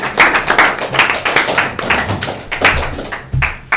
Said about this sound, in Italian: Ci vuole un applauso.